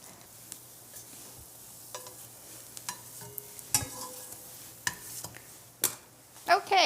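Bread toasts in unsalted butter in a skillet with a soft, steady sizzle, broken by scattered clicks and scrapes of a utensil against the pan, growing louder toward the end.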